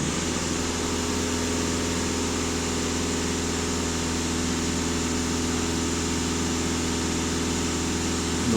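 A Volkswagen Golf 2.0 TDI diesel engine runs steadily close by, holding a loud, even mechanical drone with low rumble and no audible rise in revs; no one speaks.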